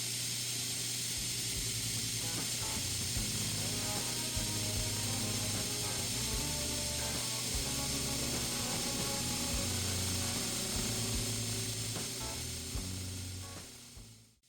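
A power wire wheel grinds the steel of a knife made from a wrench: a continuous loud, hissing, scratchy whir that runs steadily for about fourteen seconds and then winds down, with no talk.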